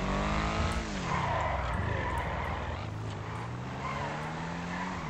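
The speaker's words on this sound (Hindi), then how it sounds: "ये भी ड्रिफ्ट कार है" A drift car in GTA 5 revs and skids, its engine pitch sliding down and climbing again under a steady roar while the tires squeal through the slide, loud and continuous.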